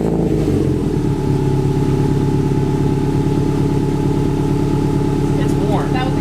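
A Subaru WRX engine with a new Invidia exhaust runs at a steady idle, a low continuous rumble with a faint higher hum, close by and unchanging throughout.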